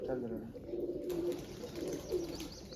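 Pigeons coo softly in low, repeated rolling calls under a faint background hum.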